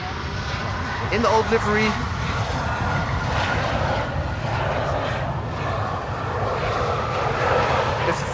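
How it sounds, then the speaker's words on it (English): A four-engine Boeing 747 passes overhead on arrival at Amsterdam Schiphol in gusty crosswind, a loud continuous jet roar with wind buffeting, while someone talks over it. "747 from Mexico to Frankfurt, passing overhead"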